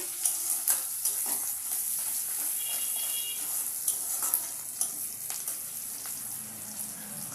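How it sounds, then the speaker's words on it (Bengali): Onions frying in a pan give a steady soft sizzle, broken by spatula scrapes and light clinks against the pan, with a brief trickle of water. "এবার আমি এটাকে ভালো করে লাল করে ভেজে নেব।"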